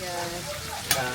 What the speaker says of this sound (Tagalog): And Papa is cooking, isda pa? Isda, prito na isda.